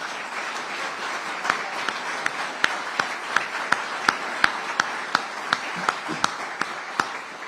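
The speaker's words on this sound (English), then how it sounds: "Let's give them a round of applause." Audience applause at a Florida bill signing held by Governor Ron DeSantis, steady crowd clapping with sharp individual claps standing out, sustained throughout without speech.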